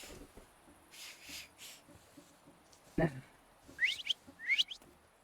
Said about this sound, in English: So, have you mastered whistling?